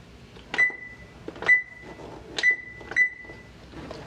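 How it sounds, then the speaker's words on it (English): Four sharp electronic beeps from a kitchen oven's control panel as it is switched on and set to temperature, spaced roughly a second apart, close and clear over a quiet kitchen background. "I'm also going to turn my oven on"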